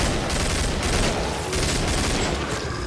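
Constant, loud gunfire from the video game Killing Floor, a dense fusillade of rapid shots filling the whole stretch with no pauses and no talking.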